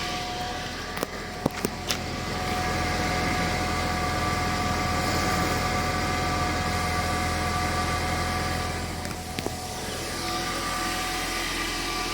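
A stock Ford Mondeo idles just after a cold start, a steady low engine drone with a constant hum holding through the whole stretch and a few faint clicks near the start.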